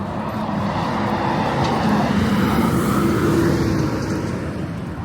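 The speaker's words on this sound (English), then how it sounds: "I missed which bus that was going past." A bus passes on a residential road, a broad, loud rumbling roar of engine and tyres that holds steady and fades slightly at the end, heard from the roadside without talk.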